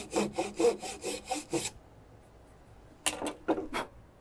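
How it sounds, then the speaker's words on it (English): A handsaw scrapes shallow grooves into a wooden dowel in quick back-and-forth strokes, close and fairly soft. About seven rhythmic strokes are followed by a short pause, then three more. "using the handsaw of your choice, place it on the top of the dowel, put your finger next to it to kind of guide it"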